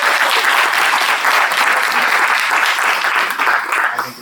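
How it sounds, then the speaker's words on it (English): A crowd at a city commission candidate forum bursts into loud, sustained applause, a dense even patter of many hands throughout, tapering only at the very end. "Big round of applause for everybody."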